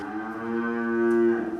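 Dairy cows low on a Swiss farm, one long steady moo building in loudness for over a second before tapering off, close and clear with no voices.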